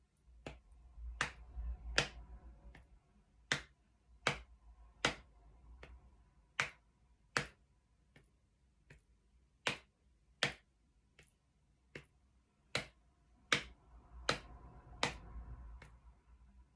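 Sharp, dry hand claps or taps beat out a rhythm, about twenty crisp strikes spaced unevenly in a practised pattern, close and clear against near silence.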